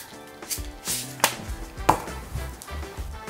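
A kitchen knife chops salad vegetables on a cutting board in a run of close, irregular thuds, with two sharper cracking strikes standing out.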